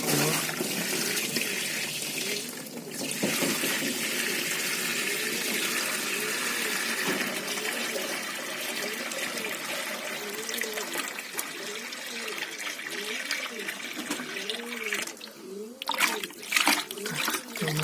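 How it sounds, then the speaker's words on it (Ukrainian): Water pours and splashes steadily into a small bathing tub for pigeons for most of the stretch, a continuous rushing wash with faint voices underneath. "виливаємо туди воду"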